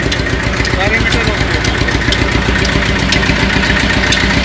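A diesel tractor engine idles at 800-900 RPM with a steady, loud chugging rumble throughout, while someone talks over it nearby.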